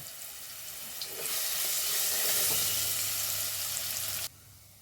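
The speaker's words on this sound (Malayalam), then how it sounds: "ഇഞ്ചി വെളുത്തുള്ളി ഇട്ട് കൊടുക്കാം കേട്ടോ ഒന്ന് വഴറ്റിയെടുക്കാം കേട്ടോ" Ginger and garlic are dropped into hot coconut oil and burst into a loud, steady sizzle that holds for about three seconds before stopping abruptly.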